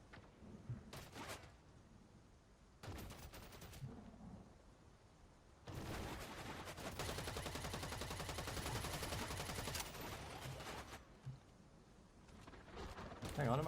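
Turret gunfire in the EVE Vanguard shooter game: several short rattling bursts, then one long sustained volley, with quieter gaps between them.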